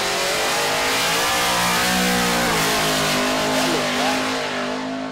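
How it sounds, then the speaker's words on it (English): A 1979 Monte Carlo drag car on drag radials launches hard down the strip, its loud engine roaring continuously as it pulls through the run, close and steady, fading slightly near the end. "The engine sounds like it's laying over a little bit at the top end"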